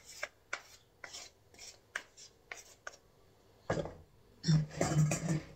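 Knife chopping six large home-grown roasted eggplants: a run of soft, evenly spaced thuds close by, then a denser burst of heavier chopping and scraping near the end, with no talk.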